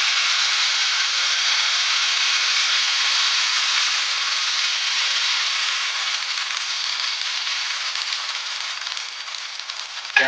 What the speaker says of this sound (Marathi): पळीच्या मदतीनं हा डोसा जो आहे लोणी स्पॉन्ज डोसा तो आपण सोडून घेणार आहोत